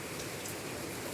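Rain falls on a rainy village day as a dense, even hiss that stays level through its brief second, with no voices.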